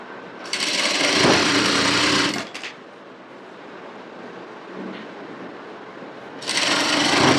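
A sewing machine runs in two bursts while stitching a hem folded at half an inch on salwar pants. The whirring is loud and steady for about two seconds, then stops, then starts again near the end, with a quiet pause between.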